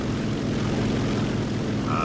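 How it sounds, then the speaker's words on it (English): A floatplane's propeller engine drones during takeoff in the combat game War Thunder, a loud, steady, unbroken roar that fills the short stretch without any voices. "Did you just try to take off with this boat plane?"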